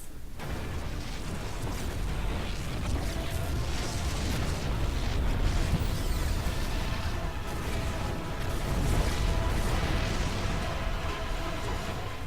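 Explosions and booming blasts from battles in the StarCraft II campaign Heart of the Swarm, a dense, continuous roar of rumbling detonations with bursts layered throughout, loud and sustained.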